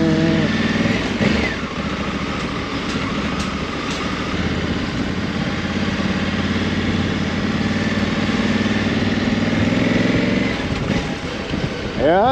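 A 2022 Honda Africa Twin motorcycle engine runs at a steady, close idle, a continuous loud rumble that stays even throughout, with faint voices nearby.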